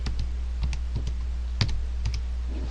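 Keys tapped on a calculator while numbers are entered: a handful of sharp, close clicks at an uneven pace, with a steady low hum underneath and no talking.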